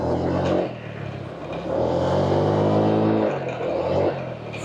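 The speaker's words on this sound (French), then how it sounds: "Je te jure qu'il a du mal le scooter." A small scooter engine labors and strains, its motor droning and revving unevenly at close range with no voices, in Hue, Vietnam.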